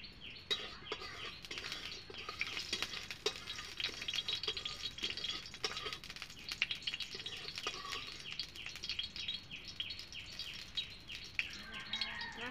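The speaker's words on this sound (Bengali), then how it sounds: "আমি গগলিকে ভাজে নিব প্রথমে।" Gogli snails fry in hot oil in a kadai over a gas flame, a continuous crackling sizzle with bright spitting pops that stay close and fairly loud throughout.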